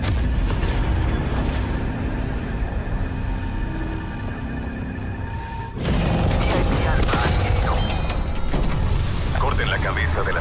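Weapons fire and explosions from the zombies mode of Call of Duty Black Ops Cold War, with a sustained mechanical roar that jumps into a louder burst of blasts partway through, under a spoken in-game voice.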